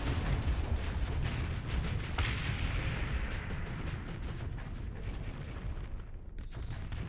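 Ship weapons in Starsector firing in a steady stream of rapid, overlapping shots and low booms, dense and continuous for several seconds before thinning out toward the end.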